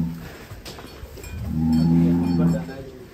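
Black cattle at a cow contest on a farm, lowing in a loud, drawn-out moo that swells midway and fades, with a cowbell clanking and farm background noise.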